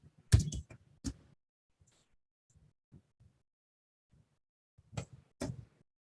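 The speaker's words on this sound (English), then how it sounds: "Let me type here." Sparse keystrokes on a computer keyboard come as a few faint clusters of quick taps separated by long quiet gaps, close and isolated with no talk.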